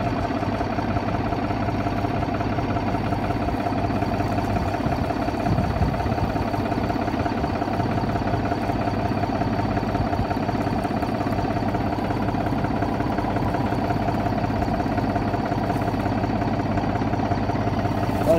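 A farm tractor's engine idles steadily in the cab during meadow harrowing work, a constant low, close, vibrating drone running alone throughout with no talk.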